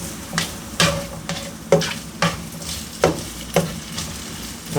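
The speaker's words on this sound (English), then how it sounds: "nice and hot, frying it up" Potato and egg frittata fries in a hot pan with a steady low sizzle, broken by regular scraping or stirring strokes roughly every half second, close and moderately loud.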